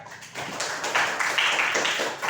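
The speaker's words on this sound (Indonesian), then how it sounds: "tepuk tangan untuk kelompok 2 ya" Students in a classroom applaud for group 2 after a math answer is checked, a fairly quiet, steady patter of many hands clapping that lasts about two seconds.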